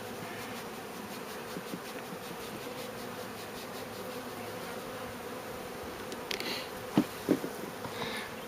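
Honeybees buzz steadily around a hive being given winter sugar and pollen feed in southeast Tennessee, a faint continuous hum with a few louder close buzzes and knocks near the end.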